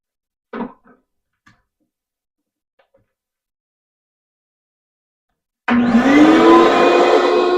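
After a few quiet knocks and near silence, a bandsaw suddenly starts up loud and close, its motor humming steadily as it begins cutting cherry wood.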